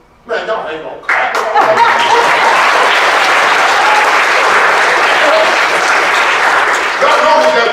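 At a high school Black History Month program, an audience claps loudly and steadily for a speaker, with scattered chuckles and laughter mixed in. Brief talk comes before and after the applause.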